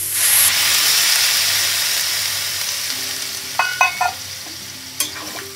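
Chopped vegetables for American chop suey fry in a pan after water is poured in, a loud steady sizzle and steam hiss that slowly fades, with a few light clinks of a utensil against the pan near the end.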